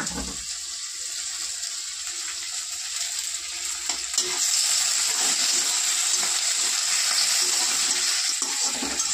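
Curry leaves are added to hot oil with onions already frying, raising a loud, continuous hiss of sizzling close up that grows stronger midway and holds steady.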